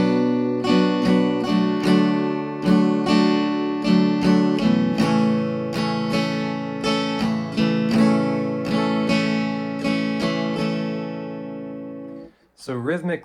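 Guitar strumming on a song: a steady, bright chordal rhythm of quick down and up strokes with syncopated accents, loud and close, ending in a brief snippet of voice.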